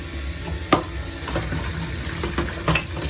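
Warm water runs from a tap over cooker hob parts set to soak, a steady splashing hiss with a few clunks and knocks of the parts, no talk.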